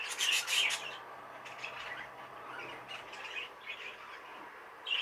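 Grey-green caged bird in a breeding cage, calling with bright chirps and squawks; a loud burst of calls at the start, then lighter scattered chirps follow, close by and alone.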